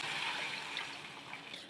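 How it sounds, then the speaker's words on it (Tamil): Water is poured into a pot of sautéed vegetables for a restaurant-style veg soup, giving a steady close rushing and splashing pour that slowly fades toward the end, with no talk. "இப்போ இதில் 2 டம்ளர் தண்ணி ஆட் பண்ணிக்கலாம்."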